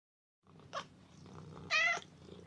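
A cat purrs softly and continuously at close range, with a brief higher chirp partway through.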